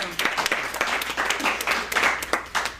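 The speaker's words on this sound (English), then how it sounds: "Please give her a big round of applause." A crowd applauds steadily for a few seconds, a dense patter of many hands clapping at once.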